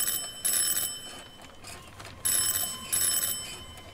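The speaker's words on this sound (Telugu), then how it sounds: "ఏ ఎదవో బెల్ల కొడుతున్నాడు" A bell rings in loud bursts, two long rings with short gaps between them, then a quieter pause before two more bursts, sounding like a doorbell in a house.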